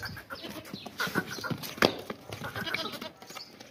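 Long-eared dairy goats and kids in a livestock market, bleating in a close, busy barnyard mix with chicken-like calls and some background voices.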